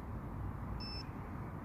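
Single electronic bite-alarm beep at a carp fishing lake: one short, clean tone lasting about a quarter second, moderately loud over a steady low outdoor rumble.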